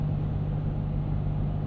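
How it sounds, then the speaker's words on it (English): Steady highway road noise inside a 2022 Toyota 4Runner TRD Pro on Nitto all-terrain tires, a constant broadband rumble and low exhaust drone with no speech. "Good demonstration for you of the highway noise."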